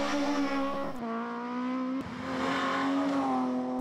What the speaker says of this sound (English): take the win from Peter McKinley, who was drifting nicely in the Escort